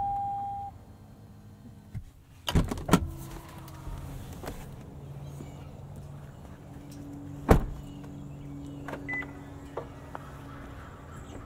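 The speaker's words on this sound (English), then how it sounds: "Those massive mirrors do automatically fold in when you lock the vehicle" A 2023 Toyota Sequoia Platinum 4WD's big side mirrors fold in automatically on locking, a low motor whir lasting several seconds amid a lock beep, door thuds and clicks.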